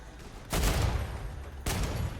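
Bursts of gunfire in the sci-fi video game Star Rupture, two loud volleys of rapid shots, the first starting about halfway in and the second near the end, with a steady background rumble between.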